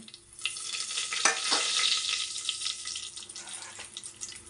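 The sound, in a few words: frying cinnamon, cloves and bay leaf in a pan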